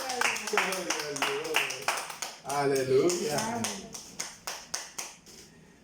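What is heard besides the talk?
congregation clapping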